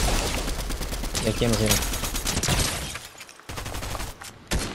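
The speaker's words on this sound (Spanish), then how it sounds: "Hay disparos también acá de este lado." Rapid bursts of automatic gunfire and explosions in a multiplayer shooter video game, loud and close, mixed with excited players talking over the shooting.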